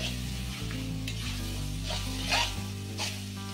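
Chicken frying in a pan and being stirred, a steady sizzle with a few scraping stirs and light clinks of a utensil against the pan, close and alone.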